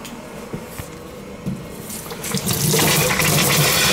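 Water rushes and hisses steadily from a leaking copper pipe in a basement, growing louder and fuller partway through, like a forceful high-pressure spray.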